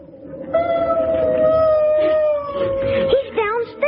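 A dog howls outside a house, a long sustained wavering howl that bends and breaks into short whimpering yelps near the end, fairly loud and close.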